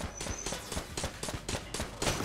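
A nail gun in Enter the Gungeon fires a fast, steady stream of sharp, evenly spaced shots, close and prominent, about four per second, over a dense game background.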